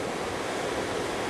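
Sea waves washing onto a beach at Gizzeria on a windless day, a steady broadband roar of surf, continuous and fairly loud, with no voices.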